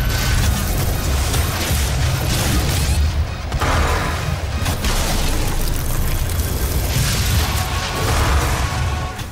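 Rocket launcher blasts in Doom, with quad damage active, come as a dense, loud run of booming explosions and crashing impacts that barely let up. There is one short lull partway through before the barrage resumes.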